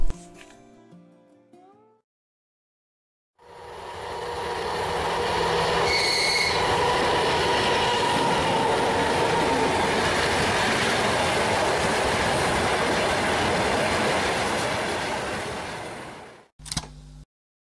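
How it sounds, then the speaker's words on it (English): Tanker freight train hauled by an M62K class diesel locomotive on a standard gauge line near the Polish border in Lithuania, rolling past loudly with a steady roar of wagons and squealing wheels, rising in and cutting off after about thirteen seconds. "A tanker train pulled by an M62K class diesel, numbered 1482, heads towards Trakiszki, Poland"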